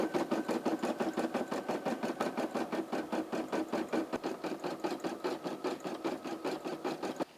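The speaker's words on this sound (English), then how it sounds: "the SE600 has stitched out that Pepsi" A Brother SE600 embroidery machine stitches out a Pepsi logo, its needle hammering in a fast, steady mechanical rhythm that stays loud and close throughout with no talking.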